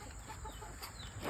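Chickens on a homestead give soft, scattered clucks, faint and close together over a steady background hiss, with no voices.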